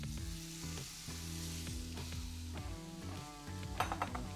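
Onions lowered into hot clarified butter sizzle and fry steadily, with a near, continuous crackle, some scraping and stirring, and light clinks of a pan or utensil toward the end. Music plays underneath.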